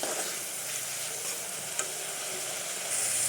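Spices sautéing in a pan for a curry of green banana, potato, eggplant and red lentils make a continuous close sizzle with a faint clink partway through, and no voices.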